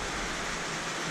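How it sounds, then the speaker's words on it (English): Rain falling steadily, a dense even patter that fills the brief moment with a soft, close hiss and no voices. "I do believe I predicted rain earlier. And guess what? It's raining."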